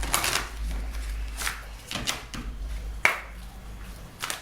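Tarot cards being shuffled in several quick riffling bursts, close and crisp, with short pauses between them and no talking.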